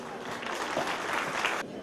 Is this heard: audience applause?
yes